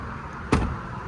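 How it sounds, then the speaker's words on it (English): A single solid thud of a minibus door shutting, brief and close, over a faint background hum. "Shut the doors down, and we are ready to roll."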